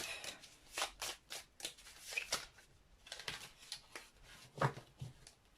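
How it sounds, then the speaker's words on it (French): A deck of oracle cards being shuffled by hand, in a run of crisp riffling and slapping bursts that comes in uneven clusters, close and fairly quiet, with no talking. "on va tirer ensuite l'oracle des amoureux, si j'arrive à le mélanger"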